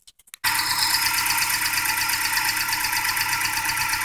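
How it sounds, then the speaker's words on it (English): A Toyota car engine starts after a few brief clicks, then settles into a steady, loud, even idle that runs on alone with no talk. "I'm just going to start the car"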